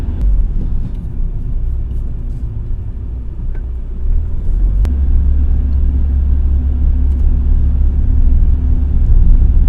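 A Renault Twingo rolls slowly at about 30 km/h toward a research-centre workplace, giving a steady low engine and road rumble from inside the car that grows slightly louder and fuller partway through.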